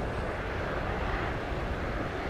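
Airplane on approach to runway 7 at Montego Bay, Jamaica, a steady broadband jet engine roar heard from a distance, constant and unbroken for the short span, no voices.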